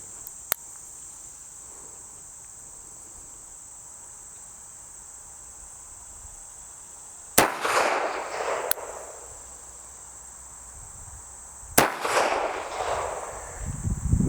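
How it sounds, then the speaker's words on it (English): Two sharp, loud reports from a Bond Arms Rough n Rowdy derringer fired outdoors at a target a few seconds apart, each with a short echoing tail, over a steady high chirping of crickets. "All you got to do is pull the hammer back when you're ready to fire and it'll go off."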